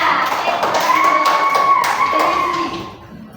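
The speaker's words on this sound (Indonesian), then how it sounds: "Oke, tepuk tangan untuk kelompok 2." A classroom of children clapping for a student group, a short burst of quick hand claps close by with faint children's voices mixed in, tapering off near the end.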